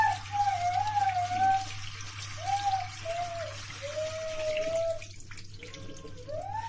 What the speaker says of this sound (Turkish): Şimdi öfeleyerek iyice yıkıyoruz.